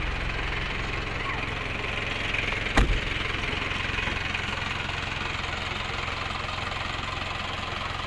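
An inexpensive used 4x4 sits with its engine idling steadily at moderate volume, a brief sharp knock or click cutting in once partway through, with no talking.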